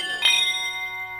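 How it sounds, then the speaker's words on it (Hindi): A handheld brass puja bell rung once during a devotional recitation, a bright metallic strike that hangs in a long, clear, shimmering ring, fading slowly over the remaining second. "आप घंटी बजा दो सभी मंत्र हो जाएंगे।"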